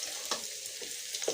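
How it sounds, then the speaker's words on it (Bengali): New potatoes fry in hot oil beside sautéing duck meat, giving a steady, close sizzle with a few brief stirring scrapes and no voices. "আলুটা একটু ভেজে নিচ্ছি।"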